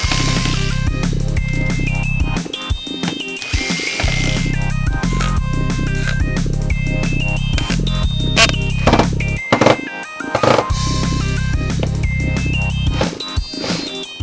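A faulty Quantum Bigfoot hard drive that is throwing errors runs with a loud, steady motor whine and hum that continues without a break, with faint ticking over it.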